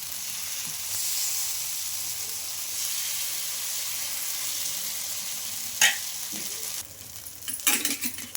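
Wheat flour and spinach rava-style dosa batter sizzles steadily on a hot pan, a loud continuous hiss, with a few sharp metal clinks and scrapes near the end.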